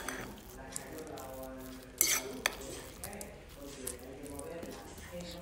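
Butter being stirred and mixed into mashed potatoes for a baked potato and cheese dish, with soft utensil scrapes and a couple of sharp clinks against the dish under continuous talking.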